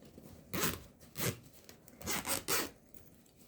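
A zipper on a sewn fabric cosmetic bag being pulled open, four or five short rasping strokes close by with brief pauses between them, and no voices.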